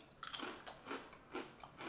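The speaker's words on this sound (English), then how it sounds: "Nice potato crunch," Crunchy ghost chili potato chips are bitten and chewed in a few quiet, crisp crunches spaced about half a second apart, close to the mic.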